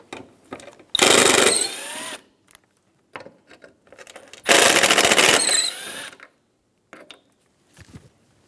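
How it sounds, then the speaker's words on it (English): A power drill removes Phillips head screws from the side bumper bracket of a 2013–2017 Honda Accord, with two loud sustained whirring bursts separated by quieter clicks and handling noises. "Remove the two Phillips head screws."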